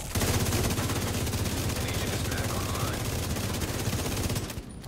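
Sustained rapid gunfire from a video game shooter, The Division, playing as a dense continuous burst at close range for most of the clip, with voices faintly mixed in.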